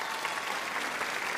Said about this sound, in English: Take a quick little round of applause for the fact that this is my first video in 2025.